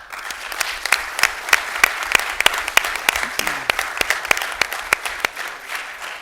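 Audience applause after a governor signs an executive order, dense steady clapping from a room of people, close and continuous for several seconds with individual sharp claps standing out.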